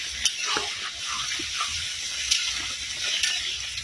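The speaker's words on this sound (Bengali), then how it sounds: "সব কিছু ভাজা হয়ে গেছে, এবার পরিমাণ মতো জল দিয়ে দেবো।" Water pours into a pan of ridge gourd curry frying with chopped tomato and chili powder, a steady broadband hiss and sizzle that continues throughout with a few sharper splashes, and no voices.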